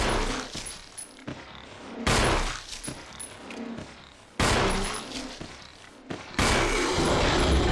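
Gunshots in Resident Evil, Chris's campaign, fired at an enemy in a room: a few loud, sharp blasts a couple of seconds apart, each followed by a short ringing tail, with quieter thuds between.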